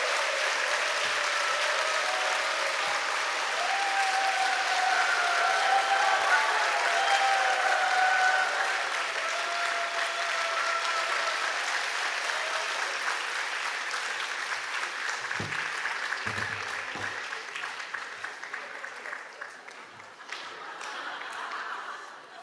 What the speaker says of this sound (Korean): 뜨거운 격려 박수 부탁합니다.